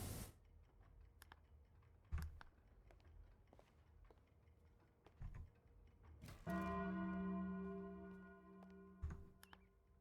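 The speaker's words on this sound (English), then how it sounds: "I already hit the bell." A large bell in the clock tower of PowerWash Simulator is struck once. It rings out loud and sustained with a slowly decaying tone, after a few scattered light clicks and taps.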